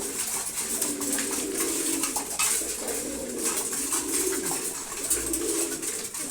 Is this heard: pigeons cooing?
yes